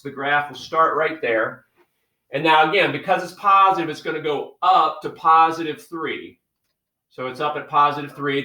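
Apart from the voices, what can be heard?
No everyday noise stands out behind the speech.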